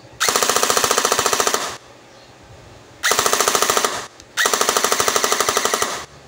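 An AR16 80% metal rifle fires in full automatic mode: three long, rapid bursts of sharp, evenly spaced shots, loud and close, separated by short pauses.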